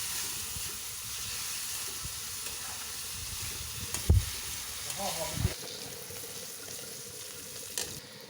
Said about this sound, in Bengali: তারপর এভাবে পেস্টটাকে ভালোভাবে মজিয়ে নিতে হবে।